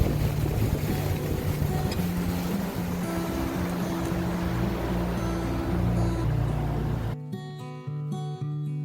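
Steady drone of a small boat's motor with wind buffeting and water rushing past on a river near Victoria Falls, Africa, continuous for several seconds before cutting out abruptly.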